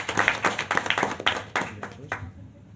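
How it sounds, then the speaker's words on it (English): Scattered hand claps from a small audience at a board of education meeting, a sparse run of distinct claps that thins out and stops, moderately near and fairly quiet. "So one more round of applause for them."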